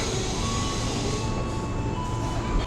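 A train at a busy Jakarta station rumbles loudly and steadily throughout, a dense broadband roar with a faint tonal whine over it.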